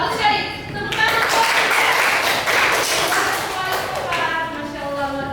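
Students clapping in a classroom, a burst of dense applause lasting several seconds that tapers off, with a teacher's voice speaking over it.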